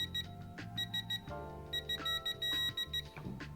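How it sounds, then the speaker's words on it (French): An electronic torque wrench gives short beeps in an irregular rhythm as it reaches set torque, over a low mechanical hum, fairly quiet and close. "Donc là ça va biper, ça va faire un peu de bruit quand on va atteindre le couple."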